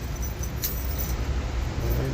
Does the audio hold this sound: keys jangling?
yes